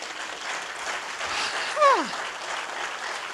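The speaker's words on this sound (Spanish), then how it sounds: "dele un aplauso al Señor" Congregation applause at a church sermon, a steady wash of many hands clapping throughout, with a brief voice cry rising over it midway.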